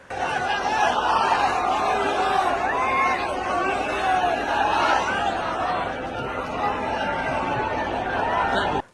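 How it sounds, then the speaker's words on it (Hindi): A large crowd at a Tejashwi Yadav political rally fills the air with a dense, continuous wall of overlapping voices and chatter, loud and close throughout before cutting off abruptly. "और भीड़ जन सैलाब"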